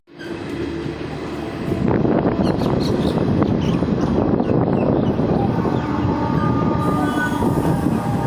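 Garib Rath express passenger train running, a loud continuous rumble and clatter of wheels on track heard from inside the coach, swelling after a quieter start and holding steady throughout.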